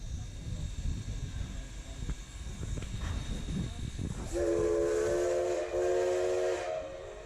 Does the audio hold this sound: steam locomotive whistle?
yes